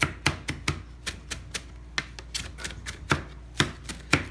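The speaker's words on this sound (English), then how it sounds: "Chopping." A knife chops a tomato on a cutting board in a quick, slightly uneven rhythm of about twenty crisp knocks, close by and fairly loud, with no talking over them.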